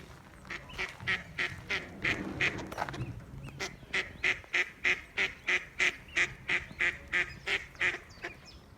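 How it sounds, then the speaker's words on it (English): Ducks quack at breakfast time at a Victorian town museum, a mixed burst of calls giving way to a long, regular run of loud nasal quacks, close by, with no talk. "And the ducks come to have their breakfasts."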